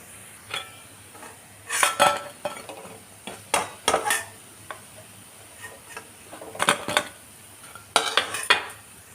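Fried lentil fritters (bora) being lifted out of a wok of hot oil, with irregular metallic clinks and scrapes from a utensil against the pan over a faint background sizzle.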